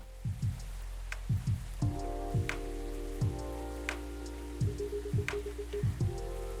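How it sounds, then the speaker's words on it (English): Rain in the video game Coffee Talk 2, heard as a soft steady patter with scattered drips and light splashes over a low background hum and occasional musical tones. "That's just the rain."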